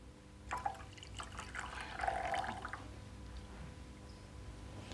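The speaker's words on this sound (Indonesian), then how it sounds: "Mau coba nuang botol." Liquid poured from a bottle gives a short, soft, splashing trickle with a few drips, close and faint, and no talking.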